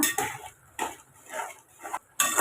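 Spoon stirring roasted spice powder into a peanut gravy in a pan: a few sharp metallic scrapes and clinks against the pan in irregular bursts, close and clear, with no talking.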